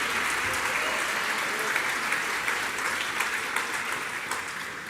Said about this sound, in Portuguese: Dá uma salva de palmas aí